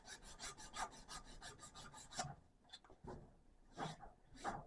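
Sandpaper rasps over custom knife handle scales in quick, even back-and-forth strokes, then in slower separate passes, quiet and close.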